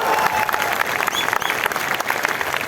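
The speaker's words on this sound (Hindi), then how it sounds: "थोड़ा ताली मार दो भाई" A large crowd at a mass political rally gathering breaks into applause, dense continuous clapping from many hands, loud and steady throughout.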